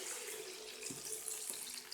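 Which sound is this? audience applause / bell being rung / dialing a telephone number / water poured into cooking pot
water poured into cooking pot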